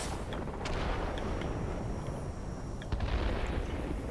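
Aircraft machine-gun fire in the air-combat game World of Warplanes, a dense continuous rattle of rapid shots with heavier bursts near the end, loud and steady throughout.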